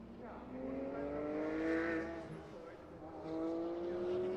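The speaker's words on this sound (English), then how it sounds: "I can hear some of them starting to fire up now, even a bit further down the pit lane" V8 prototype race car engines fire up and idle in the pit lane at the Nürburgring, a distant droning hum that rises and falls under a commentator's voice.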